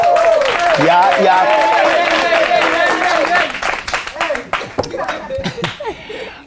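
A studio audience at a Kenyan talk show claps and cheers loudly at first, then the applause thins into scattered individual claps while someone speaks briefly over it.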